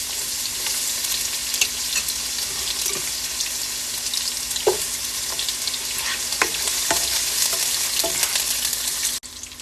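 Onions sizzle in a frying pan in a home kitchen, a bright continuous hiss heard close and fairly loud, dotted with small pops and a few stirring clicks, with no one speaking.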